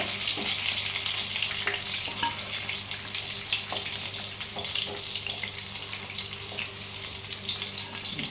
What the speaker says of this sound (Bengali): আবার এই পিঠটা ভাজবো।